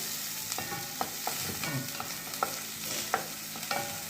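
Red and green peppers frying with onion in a pan sizzle steadily while a utensil stirs them, making repeated scraping knocks at irregular intervals.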